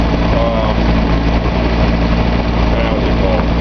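A Nissan 280Z fuel-injected engine idles steadily on a test stand, a loud, even low rumble holding constant throughout with no voices.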